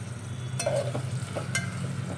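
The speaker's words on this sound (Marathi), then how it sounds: "टाकायचे आलं लसूणची पेस्ट, छान परतून घ्यायची आणि 2 चमचे तूप टाकून घ्यायचे" Ginger garlic paste frying in ghee in a pan for sambar, a steady close sizzle with a few scraping stirs of a spoon across the bottom.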